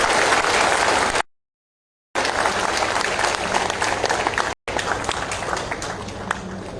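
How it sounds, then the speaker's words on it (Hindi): Loud, dense applause from an audience at an organisational meeting welcoming the national general secretary, a steady roar of many hands cut by two brief silent gaps. "तालियों की गड़गड़ाहट के साथ उनका अभिनंदन करते हुए"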